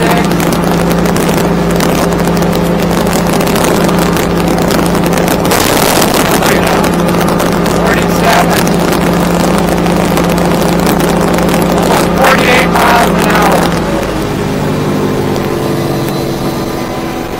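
Stabicraft 2250 Ultra Centrecab aluminium boat at around 5,900 rpm, its outboard drone steady and loud while the hull slaps and splashes through choppy water, with wind buffeting the microphone.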